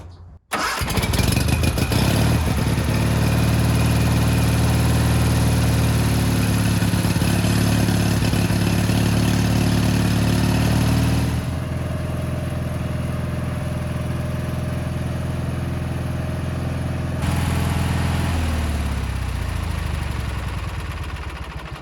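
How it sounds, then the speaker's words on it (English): A Kohler Magnum 18 engine on a Gravely garden tractor cranks, catches and settles into a loud, steady running drone. It changes pitch partway through and keeps going throughout. "again I started the engine, I allowed it to run for 10 minutes"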